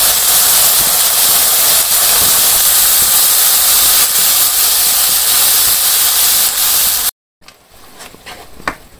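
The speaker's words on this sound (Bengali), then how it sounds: "এই যে মশলা দেওয়ার পরে আমি একটু ভাজা ভাজা করে নিলাম" Onion, ginger, garlic and green chili paste frying in hot oil while stingray curry is prepared, giving a loud, steady sizzling hiss that cuts off abruptly, followed by quieter clattering.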